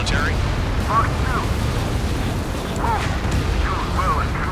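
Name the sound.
explosions in Ace Combat 7 video game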